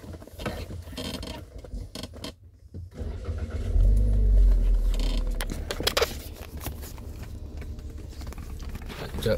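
A car drives in the rain on a school run, its engine a steady mid-range hum that swells and revs for a few seconds in the middle, with rain and road noise around it and faint voices at times.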